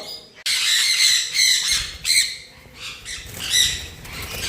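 Sun conure parrots in an aviary give loud, harsh squawks in repeated bursts, close by and overlapping, with no talk.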